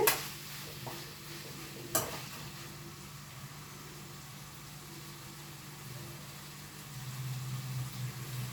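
Chicken fry is stirred and mixed in a pan, with scraping clatter at the start and a soft, steady sizzle underneath, growing slightly busier toward the end.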